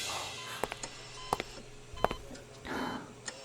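A telephone keypad sounds several separate dialing beeps, spaced unevenly over a faint background hum, with a soft rustle near the end.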